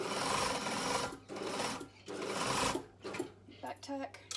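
A sewing machine runs in short close bursts while stitching a pocket seam, the rapid mechanical chatter stopping and restarting during back tacking, with a voice talking alongside.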